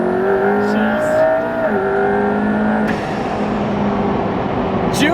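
An Underground Racing twin-turbo Lamborghini making 1,400 horsepower accelerates with a loud roaring engine note that rises through gear shifts, heard close with a faint voice underneath.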